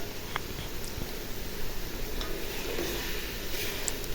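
Chicken and masala with raisins sizzle and fry in a pan for chicken biryani, a steady crackle with occasional light ticks of stirring, no voices.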